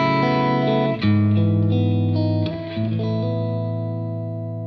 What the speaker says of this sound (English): so there's the amp more or less clean